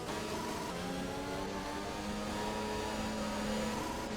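F1 race cars accelerate hard in F1 2021 at the Bahrain Grand Prix, a steady, loud high-pitched engine whine with rising tones, no talk over it.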